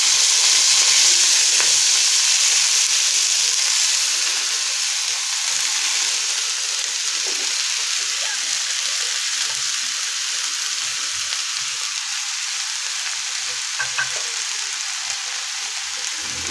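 Spring onion greens hit hot oil on an iron tawa and fry with a loud, dense, steady sizzle that eases slightly after the first few seconds, with occasional faint stirring clicks and no voices.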